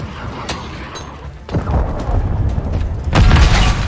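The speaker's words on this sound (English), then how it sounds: "Hostiles launched a cruise missile." Cruise missile explosions in Call of Duty: Modern Warfare 3 multiplayer: several deep booming blasts arrive a second or so apart, the last one loudest, each trailing into a low, rumbling roar.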